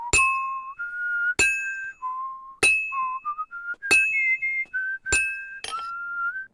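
In the medieval game Kingdom Come: Deliverance 2, a clear whistled tune rises and falls in steady rhythmic phrases, punctuated by bright bell-like clinks at regular intervals.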